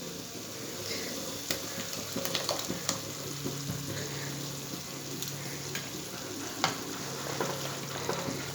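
Masala with tomato paste sautéing in a pan for a hotel-style egg curry, a steady close sizzle punctuated by scraping stirs and occasional clinks of the spatula, with no voices.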